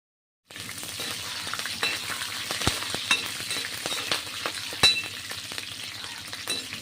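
Green chillies frying in hot oil in a lemon pulihora tempering, a steady close sizzle with crackling pops and a few louder spits throughout, no talking.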